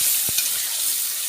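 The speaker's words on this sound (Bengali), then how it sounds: "আজকে কিন্তু আমি তোমাদের করলা ভাজা করে দেখাচ্ছি" Bitter gourd frying in a pan with a little turmeric gives a steady, bright sizzle throughout, broken by one dull knock of a spoon against the pan.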